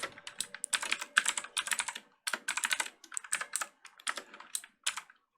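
Rapid bursts of keystrokes clatter on a computer keyboard as HTML code is typed, close and clear, in uneven runs separated by short pauses.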